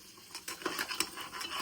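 A spoon scrapes and clinks against a pot while onion paste is stirred for a Telangana-style crab curry, with a soft sizzle beneath the quick, uneven strokes.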